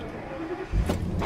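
A Ford V10 4x4 truck gives a brief, close-by engine rumble that swells as it starts moving, rising in low-end weight near the end.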